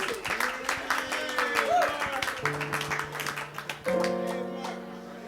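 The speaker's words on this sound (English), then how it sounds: "please give him a warm round of applause." Audience at a Los Angeles Athletic Club jazz salon gives a warm round of applause for a jazz musician, scattered clapping that fades as sustained piano or instrumental tones and some talk come in.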